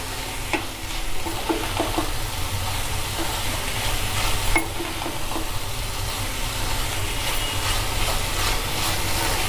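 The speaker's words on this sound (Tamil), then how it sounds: "இந்த தேங்காயை போட்டு 4 பக்கமும் நல்லா கலரி விட்டு" Grated coconut is stirred into snake gourd curry in a hot pan, with steady scraping of a spoon against the pan over a constant sizzle.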